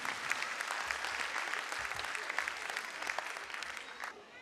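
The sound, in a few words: audience applause for the Kidzee Pimple Gurav team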